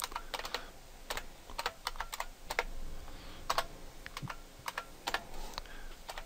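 Keystrokes on a computer keyboard while editing a configuration file in vim on an Ubuntu desktop: quick, close bursts of clicky taps with short pauses between them.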